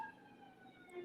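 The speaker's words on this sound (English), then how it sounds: "ambulance going by here" An ambulance siren passes faintly outside, a thin, steady wail heard at a distance through a quiet room.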